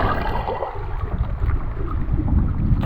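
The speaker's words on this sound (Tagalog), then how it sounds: "Medyo malalaki yung alon ngayon." Strong sea waves and wind buffet a small fishing boat out at sea, a steady rushing wash and low rumble filling the whole stretch with no voices.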